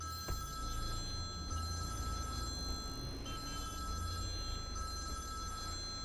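A telephone rings repeatedly in a film scene, a steady electronic ringing tone over low background hum, with no talking.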